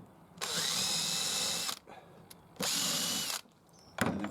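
A power drill with a countersink bit whirs in two steady bursts of over a second each, separated by a short pause, then briefly starts a third time.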